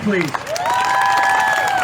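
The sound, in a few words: crowd applause and cheering at rally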